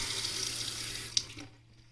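Water runs steadily from a pump-fed tap into the sink of a camper's antique-dresser kitchen, a close, continuous splashing rush that fades out near the end with a small clink.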